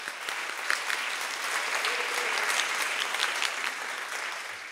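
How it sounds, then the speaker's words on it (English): A pageant audience gives the contestants another round of applause, a broad, sustained wash of many hands clapping at moderate distance, steady throughout with no talk on top. "Let's give them another round of applause"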